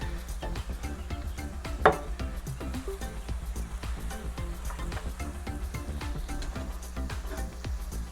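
Tortillas frying in hot oil on a grill and stirred around with tongs, a steady crackling sizzle throughout, with light clicks and scrapes of metal and one sharper clack near the start.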